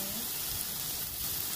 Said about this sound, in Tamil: பெரிய வெங்காயத்தை போட்டுடலாம். போட்டு அதை நல்லா வதக்கிட்டு